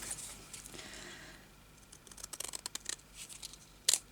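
Scissors snip through paper during a sewing-journal craft session, a quiet run of short, irregular cuts and crinkles ending in one sharper snap.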